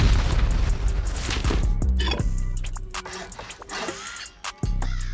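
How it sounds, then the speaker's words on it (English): A deep rocket blast booms while raiding a small base in a video game, loud at the start and rumbling away, followed by scattered clicks and a second sharp impact near the end. "We're just gonna have to rocket this for now."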